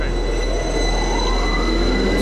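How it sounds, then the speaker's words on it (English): A standard subway train arrives in the horror game Lost in Vivo, its steady rumble and rail hum filling the scene at close range, with a faint wheel squeal rising toward the end and no talk. "Standard subway train."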